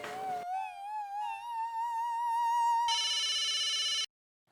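Phone ringtone on a call, a sustained rising electronic tone followed by a brighter buzzy ringing burst, then silence, loud and alone.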